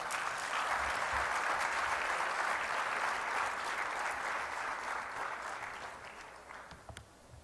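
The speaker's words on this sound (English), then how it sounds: "Please give them another round of applause" Sustained applause from a conference audience for the presenters, loud dense clapping that holds steady and then gradually tapers off toward the end.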